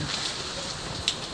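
Rain and gusting wind in a storm that brought down an avocado tree, heard as a constant soft wash of falling water with a few sharper drop impacts, fairly quiet and free of speech.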